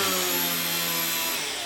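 Aurora 9 variable-pitch RC aircraft motor and propeller running in idle-up mode at lower power, making a loud, steady whine and buzz that fades slightly toward the end.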